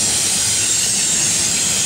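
A steady, loud rumble and hiss of a Norfolk Southern intermodal container train with Union Pacific EMD locomotives rolling past close by near Mableton, with a continuous high metallic whine over the din.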